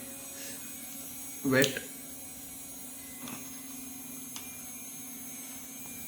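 An irrigation pump motor for a paddy field in a smart irrigation setup runs with a faint, steady low hum beneath a brief spoken word and a few small clicks.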